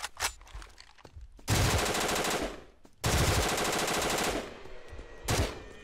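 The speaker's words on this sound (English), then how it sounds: "Maybe I should just have a very strong machine gun in a sec." Machine gun fire in the video game Garry's Mod, heard as two long, loud rattling bursts separated by a brief pause, with sharper scattered shots around them and no talk.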